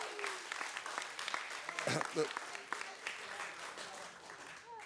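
An audience at a young water professionals' debate applauds in a dense patter of claps that swells briefly and then thins out, while a speaker's voice talks over the clapping.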